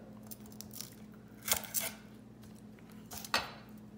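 A knife chopping the ends off garlic cloves, heard as a few close, crisp cuts and board taps, roughly two quick strikes followed by one more, over a low steady hum.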